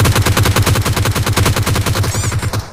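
Rapid automatic gunfire from the PUBG Mobile video game rattles off in a steady, fast burst that runs nearly unbroken for about two and a half seconds. The shots are loud and close, and there is no speech.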